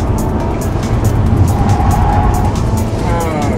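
A 2012 midsize sedan's engine roars hard and steady at full throttle from inside the cabin, loud and sustained with rising pitch, while faint road and tire noise run underneath.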